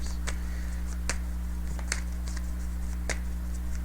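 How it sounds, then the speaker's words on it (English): Tarot cards shuffled by hand: sparse, crisp riffles and snaps in irregular bursts, close but quiet over a steady low electrical hum. "That's why I'm shuffling for the clarifiers."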